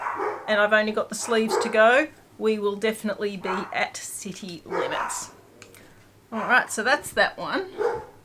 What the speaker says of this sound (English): so I'm so sorry about the barking.